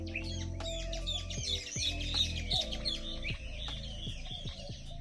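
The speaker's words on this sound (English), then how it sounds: "even down to the soundscape of birds that were playing" Birds by the lagoons of Bacalar, Mexico, give busy overlapping chirps and tweets, with a few squawk-like calls over a low steady background hum.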